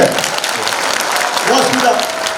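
Applause at a Korean book launch event, loud crowd clapping mixed with some voices and cheering over a short burst.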